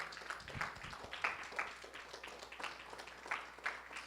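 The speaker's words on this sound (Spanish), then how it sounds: "Vamos a dar un aplauso a Cristo" Church congregation applauding, a soft, sustained patter of many hands with a few sharper claps, distant and faint.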